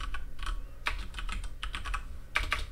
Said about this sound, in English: I'll type operating system